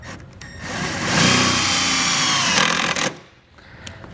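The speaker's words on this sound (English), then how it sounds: "when you're trying to get these self-tapping screws in place. So we're just going to run this in now." A power drill runs a self-tapping screw in during installation of a Roadmaster battery charge line kit on a towed vehicle, a few short starts then one loud sustained whirring drive of about two seconds that stops abruptly.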